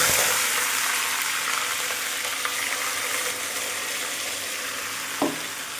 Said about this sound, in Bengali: এবার ম্যারিনেশন করা চিকেনটা এই যে রয়েছে দিয়ে দেব।